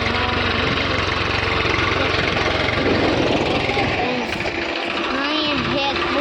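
A tractor engine idles with a continuous loud, rough rumble that holds steady, with no voices heard over it.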